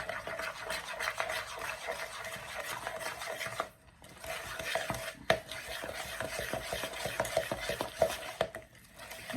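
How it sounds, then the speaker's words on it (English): Muffin batter for healthy berry muffins, made with baking powder, is mixed by hand in a bowl: continuous soft scraping and tapping of a utensil with brief pauses, close and quiet. "So I'm going to mix all of this up."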